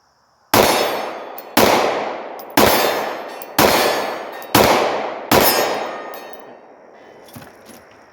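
Six loud, sharp pistol shots from a Sig 320 M17 fired one-handed at an 18-yard target on a range, spaced about a second apart, each with a ringing tail, followed by faint clinks.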